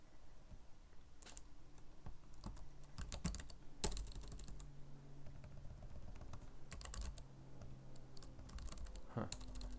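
Computer keyboard typing answers into a Word document, clattering in irregular bursts of keystrokes with brief pauses, close and fairly quiet, no talking.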